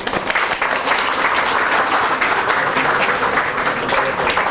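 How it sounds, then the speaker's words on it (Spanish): Loud, continuous applause from an audience at a Spanish-language public talk, a dense, even roar of clapping with no gaps from start to finish. "Un fuerte aplauso para"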